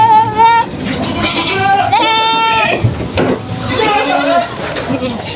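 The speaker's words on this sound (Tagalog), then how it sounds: "100 heads plus 150 heads po ang mga kambing nila dito" Goats on a farm holding around 250 head bleat loudly and close by. Several overlapping wavering cries follow one another in quick succession, and a voice speaks briefly among them.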